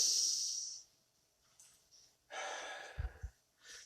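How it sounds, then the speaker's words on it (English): A gentle breath drawn in and slowly let out, soft and close, with a longer airy exhale and a faint low puff near the end, in a quiet setting. "Now take a gentle breath and let it go."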